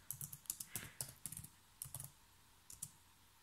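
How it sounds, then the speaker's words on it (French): Fast keystrokes tap on a computer keyboard while French revision notes are typed, coming in quick uneven bursts with short pauses, close and fairly quiet, with no voices. "je tape par exemple idée, titre"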